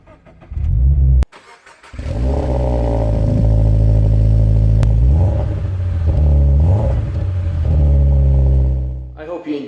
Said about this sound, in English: let's do a cold start of the GT86